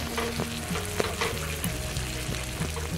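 Spices sizzling and frying in hot oil in a pan for a home-style chicken curry, a steady close crackle with light stirring scrapes and no voices.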